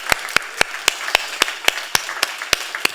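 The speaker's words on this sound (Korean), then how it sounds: "서로에게 좀 축복의 박수 하도록 하겠습니다." Claps ring out during a church worship service as the congregation applauds one another, in a steady, evenly spaced rhythm of about a dozen sharp claps over three seconds.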